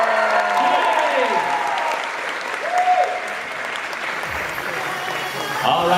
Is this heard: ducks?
no